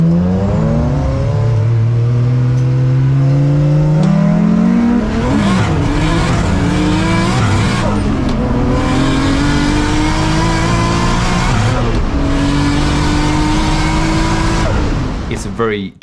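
At a roll racing event, a car engine revs hard through rising pitch sweeps and gear changes, loud and close over a sustained roar, with a person talking over it.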